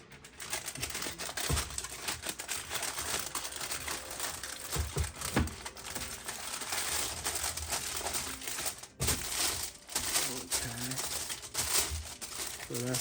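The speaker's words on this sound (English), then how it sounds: "So that's the foil going through," Aluminium foil drawn through a bamboo wrap dispenser, giving continuous crinkling and rustling close up with a few sharp crackles and taps, while a person talks over it.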